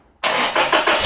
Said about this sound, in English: get in the truck and crank it